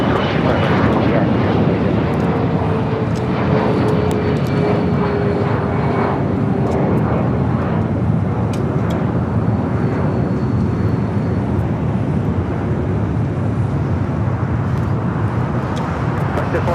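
At LAX, a Lufthansa Boeing 747 airliner rumbles steadily as a loud, broad engine roar that holds for the whole stretch, with a voice talking over it at times.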